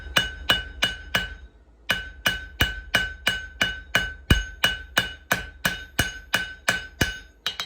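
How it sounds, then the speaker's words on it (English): Hammer blows ring out on hot steel against an anvil's corner die while an axe pendant is forged, about twenty steady, bright metallic strikes with a short pause after the first few, close and loud with no talking. "Just using the corner die of the anvil as a bit of a fuller."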